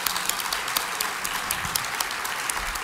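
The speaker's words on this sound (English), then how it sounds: "please give these people a round of applause" Conference audience at the ISPI 50th conference in Toronto claps for first-time attendees, steady full-room applause with crisp individual claps throughout.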